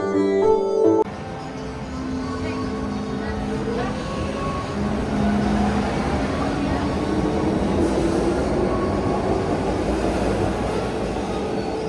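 A train pulls into Disneyland Resort station in Hong Kong, its steady rumble and wheel noise close and continuous throughout, with a brief louder burst at the very start.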